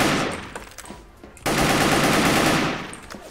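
Automatic fire from the SCAL WKS rifle in the online shooter Wolfteam, loud sustained bursts of rapid shots with a brief lull before a second, denser volley, no talk over it.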